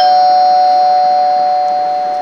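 A doorbell rings with a sustained electronic tone held steadily and loudly in a home, with no talking over it.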